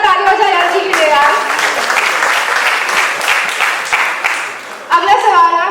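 Audience members at a press conference for the Taarak Mehta Ka Ooltah Chashmah team clap heartily in a loud, dense burst, with voices speaking over the start and the end.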